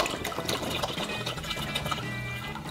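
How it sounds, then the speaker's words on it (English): Water poured from a bottle into a toy tank, a close, continuous gurgling splash with bubbling that carries on steadily without pause. "this is our first bottle of water. Let's see if it fills the tank."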